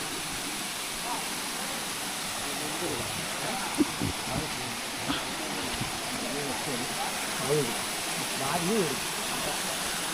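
Ural Kuzhi waterfall at Sabarimala, a steady broadband rush of falling water holding even throughout, with someone talking over it.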